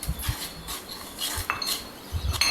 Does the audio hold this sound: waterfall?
no